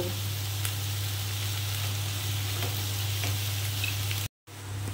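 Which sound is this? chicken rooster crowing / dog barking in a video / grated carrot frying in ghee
grated carrot frying in ghee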